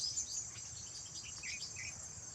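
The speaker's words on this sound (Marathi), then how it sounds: "आवाज बघा मित्रांनो पक्ष्यांचे" Short calls from bulbuls and other birds rise over a constant shrill insect hum at a farmhouse, faint and outdoors, with no voices.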